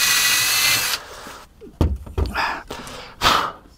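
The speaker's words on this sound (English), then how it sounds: "I love the control you get out of the battery drills. The battery drill is very controllable." A battery drill drives screws into a boat's foredeck hatch, with a steady whirring run, then a series of short bursts and knocks as the screws seat and the tool is handled, close by with no talk.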